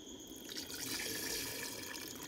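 Water pours into a pot of rice for Nigerian jollof, a soft continuous splashing and trickling that stays quiet and close, with no talking.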